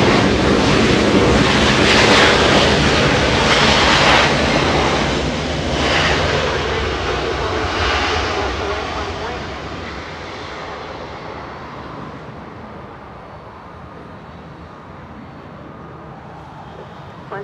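A Boeing 737-800 airliner arriving from Vancouver at Los Angeles airport, its broad engine roar loud at first and then fading steadily into a low distant rumble with wind buffeting the microphone.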